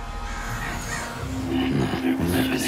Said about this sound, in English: what's with the crows?